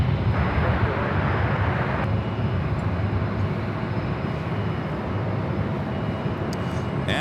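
An airliner comes in to land at Los Angeles LAX, a loud, broad jet roar with a steady rushing hiss that holds throughout and eases slightly partway through.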